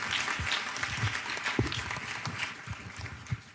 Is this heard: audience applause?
yes